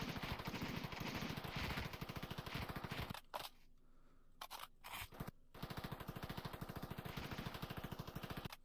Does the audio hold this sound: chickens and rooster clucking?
no